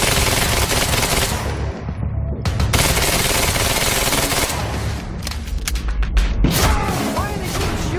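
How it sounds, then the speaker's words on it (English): Sustained automatic gunfire in a Quantum Break firefight, loud rapid bursts that run almost without pause, with heavier booming shots near the end. "Why are they still shooting?"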